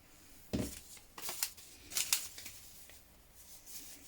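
Scissors snip through fabric pattern pieces for a jacket, a few quiet, close, separate cuts with crisp blade sounds and pauses between them.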